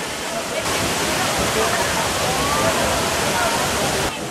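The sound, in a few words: Tangadan Falls waterfall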